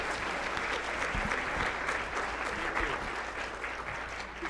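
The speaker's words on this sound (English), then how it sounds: "Give him a round of applause for that" Steady applause from a summit audience, dense clapping held at an even level for several seconds, with some low murmuring voices beneath it.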